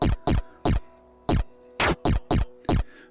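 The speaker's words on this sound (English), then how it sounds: "which is going to give it much more of a snare drum cut sound." Short, noisy FM-synthesized snare hits from a Sonicware 8Bit Warps synth, played alone in an uneven pattern of eight sharp, bright strikes with a faint steady hum underneath.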